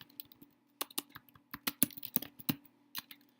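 Keys clatter on a computer keyboard as a search term is entered into an ebook catalog, a close, irregular run of crisp clicks with short pauses, no talking.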